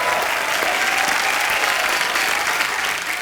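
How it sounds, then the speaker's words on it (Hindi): A studio audience at a comedy talk show bursts into loud, dense, sustained applause. The clapping stays steady and close throughout, with faint crowd voices mixed in. "जोरदार तालियां"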